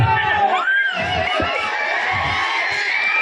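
A crowd at a mimicry comedy show in NTR Park, Seethammapeta, shouts and cheers loudly. Excited voices, including children, whoop over one another in a steady, close roar.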